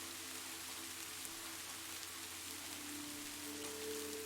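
Soft rain patters on a window pane, a faint, steady hiss that stays calm and even throughout, with a low hum beneath it.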